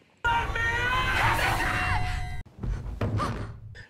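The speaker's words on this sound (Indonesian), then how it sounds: "Teresa teriak ketakutan" In the horror film Evil Dead Rise, a woman screams in fear with a long, loud, strained cry. It breaks off sharply, followed by shorter gasping vocal bursts.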